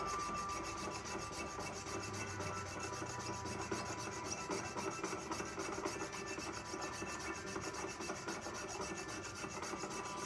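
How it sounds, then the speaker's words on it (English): A jeweler's saw blade cuts through metal, run dry without wax or lubricant, while making jump rings: a steady, continuous rasping stroke that holds near and fairly loud for the whole stretch, with no talk over it. "I should not be sawing today."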